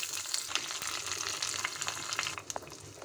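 Mustard seeds, cumin, dried chillies and curry leaves sizzle and crackle steadily in hot oil in a pan, close and continuous, with sharp popping bursts throughout and no talking.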